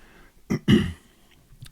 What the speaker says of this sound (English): I had to clear my throat there for a sec